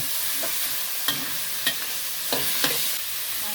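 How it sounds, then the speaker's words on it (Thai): Scraps of beef stir-fry in a hot pan for spicy Thai basil stir-fry, with a steady sizzle broken by a few sharp spatula clacks against the pan and no talking. "คั่วเนื้อให้สุกแล้วก็ตามด้วยพริกนะครับ"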